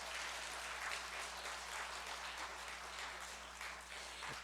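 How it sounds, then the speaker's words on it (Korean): Congregation at a Sunday church service applauding to bless a member about to leave the country, a steady dense wash of clapping filling the room without pause, moderately distant and even in level. "우리 박수로 축복해 주시면 감사하겠습니다"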